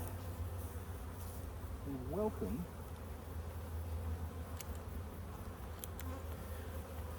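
Honey bees buzz steadily around a busy beehive, a dense continuous drone close by that holds level throughout with no talking.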